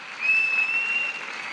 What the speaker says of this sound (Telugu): నిజంగానే ఇది మనం అందరూ కూడా సో గట్టిగా క్లాప్స్ కొట్టాలి సార్కి